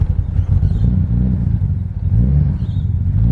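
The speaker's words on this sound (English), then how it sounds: "Give it a few little revs." A Mazda RX7 rotary engine, just after a cold start, gets a few small blips of throttle: a close, heavy low rumble that rises and falls slightly in loudness, with no speech.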